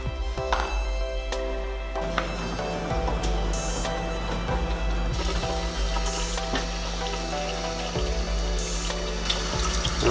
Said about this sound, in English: let's rinse it off and see what happens.